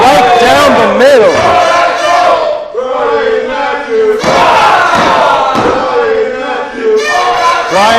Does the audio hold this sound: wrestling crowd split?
yes